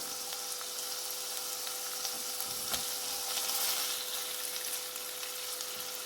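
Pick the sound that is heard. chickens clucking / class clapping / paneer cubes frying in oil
paneer cubes frying in oil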